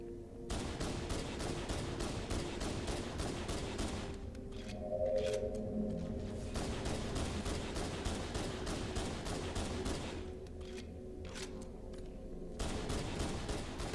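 Rapid pistol gunfire in Halo: Combat Evolved, fired down a hallway in the Library level, as a steady stream of sharp shots with brief pauses and no talk.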